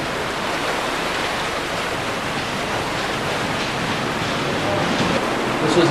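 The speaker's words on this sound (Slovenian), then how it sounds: "Ponekod dere v pravih slapovih." Underground waterfalls in the mine workings beneath Peca mountain, with water rushing through the flooded drainage tunnels, give a steady, dense roar that fills the space without pause and swells slightly louder toward the end.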